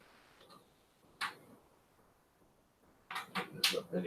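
Screws being tightened while a power supply is mounted in a computer case: a few sharp, close clicks, one isolated, then a quick cluster of ticks near the end.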